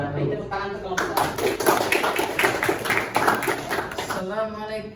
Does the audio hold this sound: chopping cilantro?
no